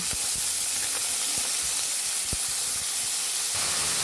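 Chopped onions sizzling in hot oil in a wok, a loud continuous hiss with a few sharp pops and crackles.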